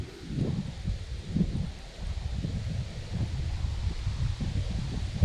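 Wind gusting outdoors on open water during a fall bass fishing trip, a steady low rumble buffeting the microphone with rising and falling surges and faint rustling, with no voices.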